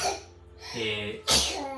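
A single sharp sneeze bursts out after a short breathy build-up, close and loud, with a voice before it.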